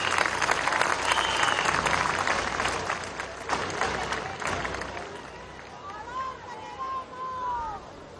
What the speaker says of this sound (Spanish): un aplauso para Adán Chávez.